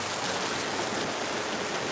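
Steady rain falls in Lagos, a dense, even hiss of drops on surfaces filling the short stretch at moderate level, with no voices.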